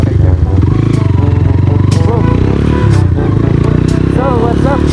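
A Mojo 200 motorcycle being ridden after a flat tire was reinflated, its engine droning with a rapid pulsing throb and rattling up close, with a rider talking over it.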